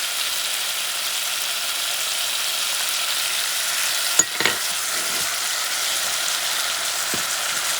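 Garlic sizzles in a hot pan while being cooked for black beans, a steady bright frying hiss broken midway by a brief clatter of stirring.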